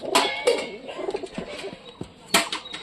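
Several pigeons coo and flutter in a scuffle, with short wing-flap bursts and throaty calls rising and falling close by over a faint background voice.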